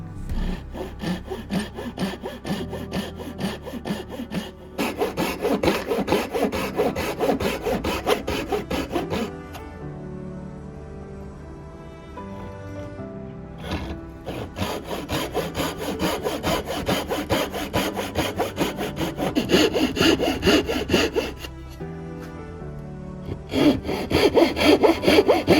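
A hand saw cuts wood for joinery in a hand-tool-only build, steady back-and-forth rasping strokes close up, pausing briefly between bursts of sawing.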